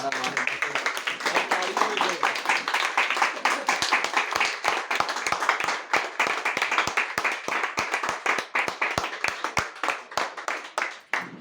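An indoor audience gives loud, sustained applause to welcome a guru, dense clapping throughout that thins into scattered individual claps toward the end.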